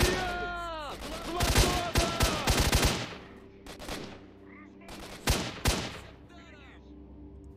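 Rapid bursts of automatic gunfire crackle in S.T.A.L.K.E.R.: Shadow of Chernobyl, loud clustered shots in two volleys separated by a quieter gap.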